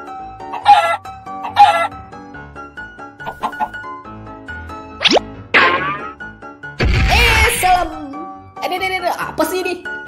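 A Minecraft chicken in an animation gives several short, bright clucks and squawks mixed with cartoon plops and boings, with lively voices talking among them.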